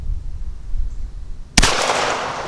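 A single loud gunshot from a firearm firing mini buckshot or slug loads at an outdoor range, a sharp blast after a quiet stretch of wind and ambient noise, followed by a lingering echo.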